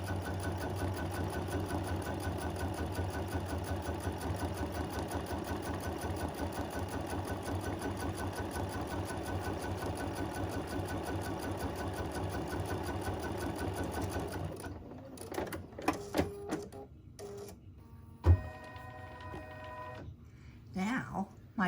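An embroidery machine stitches out an in-the-hoop design on fabric, a steady rapid mechanical chatter running loud and continuous before stopping, followed by scattered handling clicks.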